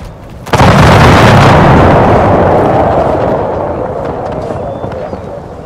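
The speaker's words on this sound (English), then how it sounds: "I hear gunfire." Gunfire in a Total War: Empire naval battle out at sea: a heavy, loud volley of booming blasts that swells into a dense, rumbling roar and slowly decays, with no talk over it.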